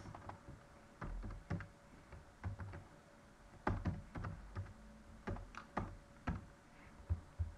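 Keystrokes tap on a computer keyboard in short uneven bursts of clicks, quiet and close, while a line of code is typed with no talking.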